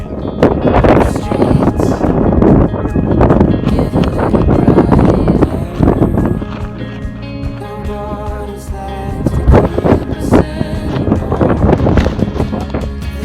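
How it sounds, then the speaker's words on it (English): Strong wind gusts batter a tent pitched on snow, with loud buffeting, flapping and roaring rumble that continues throughout. "We are stuck in the tent because it is windy as all get out."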